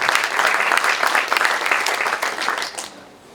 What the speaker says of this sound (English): So let's give a hand of applause for that.